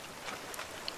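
Rain falling in the VR survival game The Forest, a steady soft hiss with faint scattered drop taps, fairly quiet and continuous with no talking over it.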